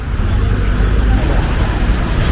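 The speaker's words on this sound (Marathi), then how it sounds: "तिथनं ह्या सगळ्या गाड्या उलट्या येतात आणि या बाजूला वळतात" Road traffic at a busy junction in Kothrud, with vehicles coming the wrong way and turning, a dense close rumble of engines and tyres that stays loud and steady throughout the short stretch.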